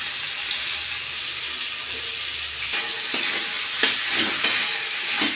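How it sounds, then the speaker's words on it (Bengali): Potatoes go into spice masala frying in oil, a steady loud sizzle that turns into scraping stirring and clattering near the end, with no talk. "মশলায় তেল ছেড়ে গেছে, আমি আলুটা ঢেলে দেবো।"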